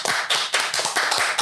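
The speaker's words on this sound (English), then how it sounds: "Stand up, clap for this nigga." A small group stands and claps for one person in a loud, close burst of dense, rapid hand claps with no pause.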